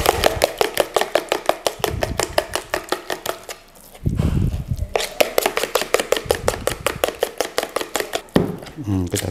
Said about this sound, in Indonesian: kita kocok telurnya, 1 butir aja udah cukup